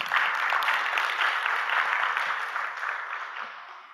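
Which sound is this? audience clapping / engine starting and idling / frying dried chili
audience clapping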